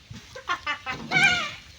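A goat bleats close by: a few short calls, then a longer, wavering bleat.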